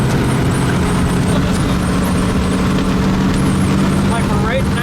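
A 1920 Packard Twin Six runabout with a 90 hp engine drives along, its steady engine drone and road rumble continuous and close. A voice talks over the sound throughout.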